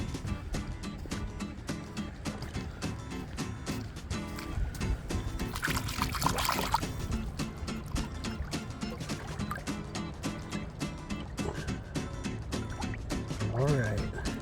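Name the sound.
water washing off a stone artifact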